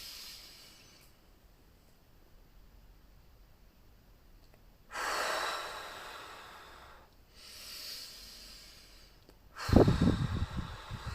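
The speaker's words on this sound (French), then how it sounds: "Alors, de longues et profondes respiration abdominale" Slow, deep abdominal breathing is heard as a few long, breathy inhales and exhales with quiet pauses between them, ending in a louder, rougher breath. The breathing is close and fairly soft.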